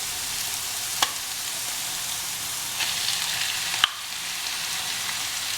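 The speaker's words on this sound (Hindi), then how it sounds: "कलेजी बढ़िया फ्राई हो गई है। अब इसके अंदर हम ये जो हमारा कीमा है इस कीमा को भी डाल देते हैं।" Mutton keema and liver (kaleji) fry in a pan with a steady, bright, close sizzle. A couple of faint clinks or stirring taps come through, and no one talks.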